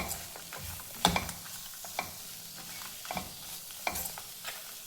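Dried red chillies roast with other chutney ingredients in a pan, a gentle sizzle under rhythmic stirring scrapes that land roughly once a second, close and fairly quiet with no voices.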